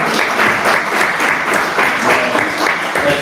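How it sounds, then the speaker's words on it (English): Sustained round of applause from people gathered at a town council meeting in Hexham, steady and fairly loud throughout with no talk over it. "So a big round of applause."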